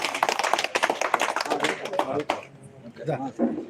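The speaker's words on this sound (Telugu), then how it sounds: "అందరూ ఒకసారి క్లాప్స్ కొట్టండి" An audience at a live honouring ceremony claps for a caretaker, a rapid crowd applause mixed with someone talking over it.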